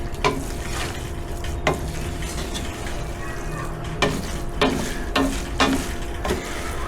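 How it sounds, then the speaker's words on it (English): A spoon scraping the browned crust off the bottom of a jambalaya pot, with several distinct scrapes and stirring strokes close by over a steady background sizzle. "If you hear that, that's what they call in French the gras-doux on the bottom of the pot."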